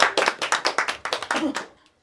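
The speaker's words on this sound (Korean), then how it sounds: "박수 치고 시작하겠습니다." A crowd claps together in a steady, rhythmic burst of sharp hand claps for nearly two seconds, then stops abruptly, close and clear with no talk over it.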